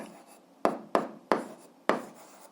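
Four crisp strokes of a pen or chalk write a math equation by hand, each a short scratchy tap close up with soft rubbing between them.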